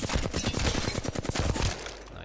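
Rapid bursts of R-301 assault rifle fire in a video game, a dense run of close, loud shots lasting nearly two seconds before cutting off.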